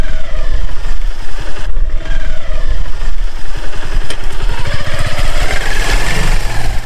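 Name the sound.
motorcycle engine while crossing a dry riverbed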